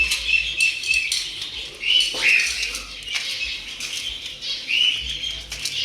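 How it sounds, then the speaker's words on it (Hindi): Budgie chicks scurry and flap about inside their cage, giving close, repeated fluttering and rustling bursts over high, faint chirps. "अपने केज के अंदर हमारे बन्नी के बेबी ने इधर उधर घूमना शुरू कर दिया है।"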